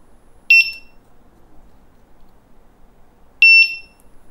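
Two short, loud, high beeps from the beeper of a brand-new Mten5 electric unicycle, spaced about three seconds apart over near silence.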